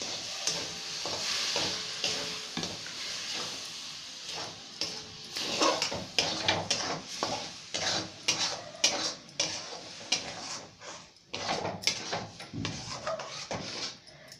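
Ground tomato hits a hot pan of spiced cabbage and fries with a close, steady sizzle, while a spoon stirs and scrapes against the pan in repeated strokes.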